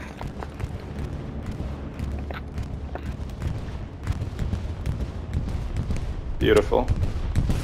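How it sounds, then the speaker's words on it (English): A bombing run in a war video game drops explosions on an artillery battery, with rumbling blasts and scattered gunfire throughout and a sharp, louder burst near the end, under a voice. "They're throwing a bombing run down on battery."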